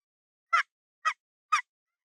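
A friction turkey call, a pot-style call rubbed with a striker, gives three short, evenly spaced yelps about half a second apart, clear and isolated against silence.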